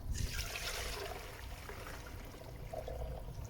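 Water is poured over wet brass cartridge cases after tumbling, a steady close splashing and trickling rush that runs without a break.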